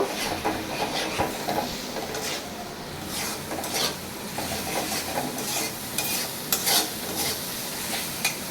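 Home-style chicken curry with a spoon of sour yogurt is stir-fried in a pan, repeated close spatula scrapes and clinks over a constant sizzle in uneven bursts.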